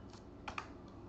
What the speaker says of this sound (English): So I'm gonna type in the cmd command prompt